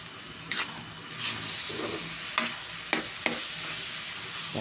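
Banana heart is stir-fried in a pan, with a steady sizzle and several sharp scrapes and clacks of a spatula stirring against the pan.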